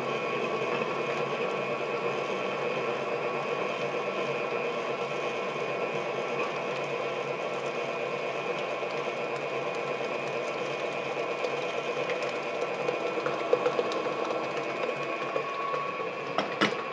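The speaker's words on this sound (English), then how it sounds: "I'm going to shut off the mixer for a second." Electric mixer beating apple cake batter after the eggs go in, a steady, continuous motor whir with a constant tone and faint scraping clicks near the end.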